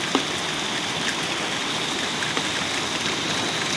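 Heavy summer afternoon downpour pouring off a porch into a storm drain, a dense continuous hiss of rain and running water, close and steady, with a few splashy drop impacts and no talking.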